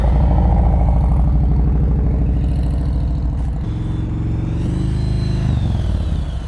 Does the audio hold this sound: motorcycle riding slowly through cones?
yes